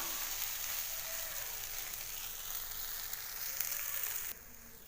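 An egg and milk omelette sizzling in oil in a pan just after being flipped, a soft continuous hiss of frying that carries on and then drops quieter near the end.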